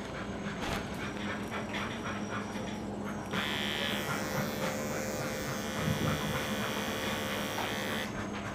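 Electric clippers buzz steadily on a Saint Berdoodle's coat while shaving out a mat, with the motor tone brightening as the blades bite into the fur, quiet and close with a few faint panting sounds.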